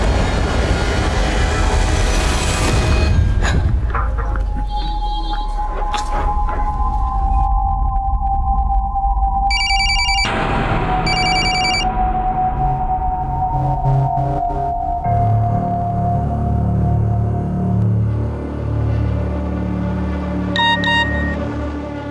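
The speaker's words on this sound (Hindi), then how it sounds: "प्लीज़ मेरा फ़ोन पिकअप करो, अर्जेंट है" A telephone rings in a tense office-drama crime scene, sounding as a few short, bright electronic ring bursts over a steady music bed with a low droning rumble.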